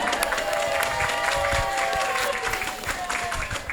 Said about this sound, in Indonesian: Beri tepuk tangan dulu dong buat Pak Kapit ya.